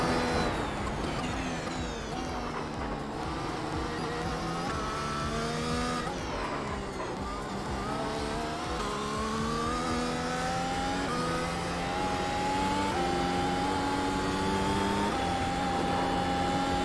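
Sustained high-revving Mercedes W12 Formula 1 engine in iRacing, rising through the gears with clear pitch climbs and drops at shifts, loud and steady for the whole lap section with no talk.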